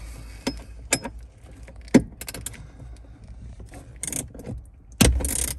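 Metallic clicks and rattles come from a tool working loose an 8 mm bolt on a Jeep bracket under the dashboard. The sounds are sparse and irregular and close to the microphone, ending in a louder burst of rattling.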